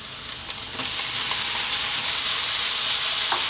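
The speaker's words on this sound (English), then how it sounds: "Then we're going to drop in our tomatoes and we're going to cook this then for about 5 minutes" Tomatoes land in a hot pan for an egg and tomato breakfast, and the frying swells into a loud, steady close sizzle that holds without break.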